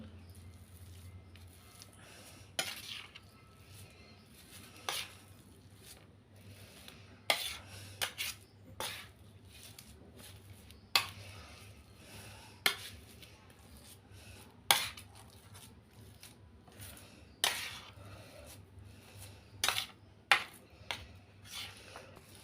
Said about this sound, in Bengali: এবার পাক দেওয়া ছানা আর কাঁচা ছানা একসঙ্গে ভালো করে মিশিয়ে নিচ্ছি